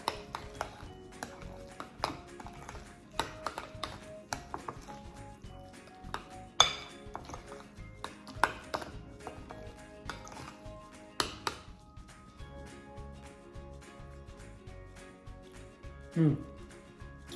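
Guacamole is mixed in a bowl with a utensil, giving close, irregular clinks and light taps against the bowl, with quieter stretches between strokes.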